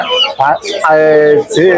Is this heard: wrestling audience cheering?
no